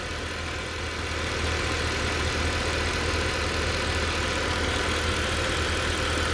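A 2013 Mercedes C63 with 205,000 km on it idles smoothly and steadily, a low, even engine hum heard close by with no talking.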